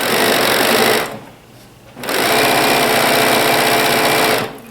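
A sewing machine stitches fabric in loud, close, rapid whirring bursts, stopping for about a second before running again, with no voices over it.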